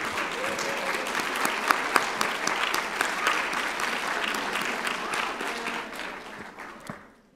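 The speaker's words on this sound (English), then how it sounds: "Let's give them a round of applause." A convocation audience applauds the families and supporters of graduating health professions students, a dense, steady roar of clapping that fills the hall and fades away near the end.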